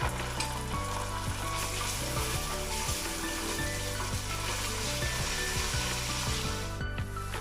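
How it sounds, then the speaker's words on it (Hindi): Onions sizzle loudly in a hot pan, with repeated scraping strokes of a spoon stirring them throughout. "ये प्याज हमारी फ्राई हो गई है। अब हम इसमें ऐड करेंगे लहसुन अदरक का पेस्ट"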